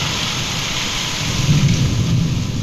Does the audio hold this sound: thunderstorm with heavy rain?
yes